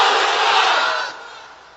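Large crowd of unmarried men at an outdoor religious gathering shouting a takbir chant in unison, a loud massed roar that swells and then fades away within about two seconds.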